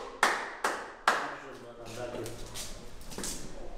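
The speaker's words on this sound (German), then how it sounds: "Applaus!" Three sharp, close hand claps come in quick succession, then someone talks over quieter background sound.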